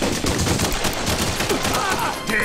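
Gunfire from The Punisher video game, rapid dense shots crackling in a steady burst across the whole moment, loud and close with no voices over it.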